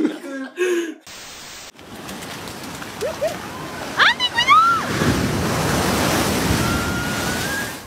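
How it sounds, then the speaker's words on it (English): Big ocean waves roar and surge in a steady wash of broadband noise, with voices calling and shouting over the surf before it swells into a sustained rush. "Be careful with big waves."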